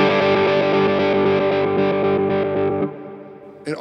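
Electric guitar runs through an Electro Harmonix Stereo Pulsar tremolo pedal, a sustained chord pulsing in rapid, even volume throbs, close and loud, fading out near the end before a brief new attack.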